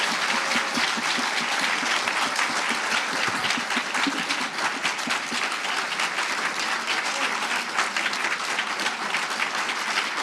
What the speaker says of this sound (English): Can we get a giant round of applause for everyone here?